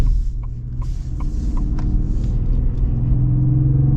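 A deep, steady pickup truck engine rumble idles close by with a few faint clicks near the start, no voices.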